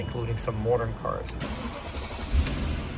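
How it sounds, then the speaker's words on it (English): A 2001 BMW 740iL E38 does a cold start: a dense, steady engine rumble that builds after a man's speech at the start and carries on evenly, fairly close. "That's the cold start."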